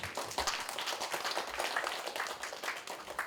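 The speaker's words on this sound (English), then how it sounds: "May we give us a round of applause" An audience gives a round of applause at the close of a talk-show session on Adiwiyata schools and water conservation, with dense, steady clapping throughout at a moderate, somewhat distant level.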